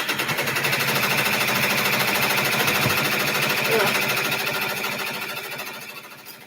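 An embroidery machine running a placement stitch hums steadily with a rapid, even needle patter throughout, close and fairly loud, fading slightly toward the end.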